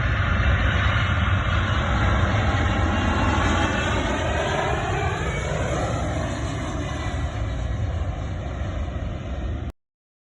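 A replica Spitfire aircraft comes in to land without its wheels, its engine droning loud and continuous with a pitch sweep as it passes, then cutting off abruptly near the end.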